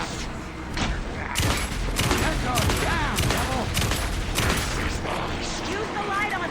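Shotgun blasts in the Alan Wake II video game, several loud booming shots in quick succession against dense combat noise, with someone talking over the fight.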